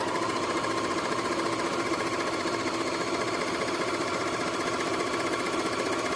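A Rubina 4564 overlock sewing machine running a sewing test, a loud, steady rapid mechanical hum and clatter held evenly throughout, close and without talking.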